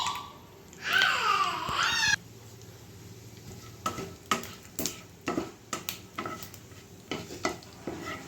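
Whole spices drop into hot mustard oil in a pan, setting off a loud burst of bubbling sizzle, then quieter frying crackle punctuated by sharp clinks and scrapes of a spoon stirring against the pan.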